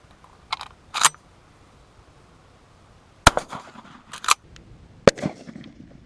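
A 12 gauge shotgun loaded with 7.5 shot fires into inch-thick wood, heard as three sharp, loud reports spaced a couple of seconds apart, each followed by smaller clatter and impacts, with quieter cracks before them.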